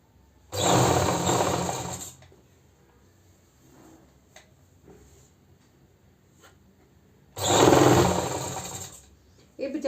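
A sewing machine stitches the lining of a suit in two separate runs, a loud, close, fast whirring buzz each lasting about one and a half seconds, with quiet handling and faint fabric sounds between them.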